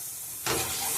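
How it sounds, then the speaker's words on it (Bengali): Spices with salt and half a spoon of turmeric frying in a pan, a steady loud sizzle and hiss that jumps up suddenly partway through and then holds, with no talk. "এবার মশলাটা আমি ভালো করে কষে নেব।"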